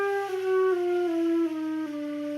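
A flute in its low register is played breathily, with much of the air passing over the mouthpiece, producing a series of sustained tones that step downward one after another, clear and alone.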